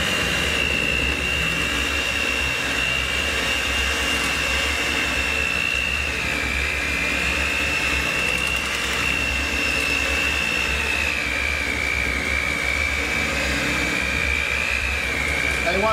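An electric mixer beats waffle batter for chicken and waffles, a loud, continuous motor whir with a steady whine that holds unchanged throughout, close by.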